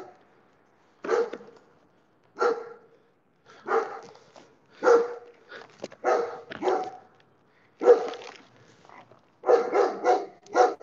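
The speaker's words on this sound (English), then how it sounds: "So every time people walk by the house, dogs bark." Several dogs inside a house bark at people walking past, firing off repeated sharp bursts at uneven gaps, loud and close, ending in a quicker cluster of barks.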